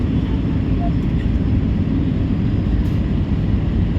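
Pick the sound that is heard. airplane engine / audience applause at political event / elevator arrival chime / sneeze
airplane engine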